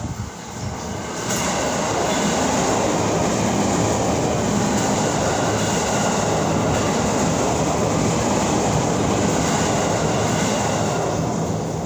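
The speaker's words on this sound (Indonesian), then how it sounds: "Ada kereta lewat." A train rumbles past close by, a loud continuous roar of wheels and cars that swells in after a second and holds steady throughout.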